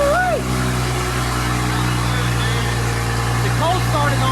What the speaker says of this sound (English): let's fire it up, give them a little bit of cold start